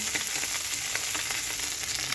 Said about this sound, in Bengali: রুই মাছের মুড়োটাকে ভেজে নেব